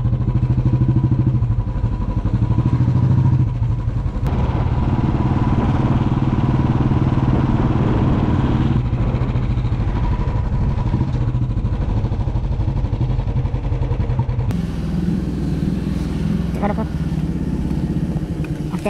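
Royal Enfield Bullet motorcycle being ridden home through Nagaland toward Shillong, a steady, loud engine thrum with constant road and wind noise and a brief shift in tone near the end.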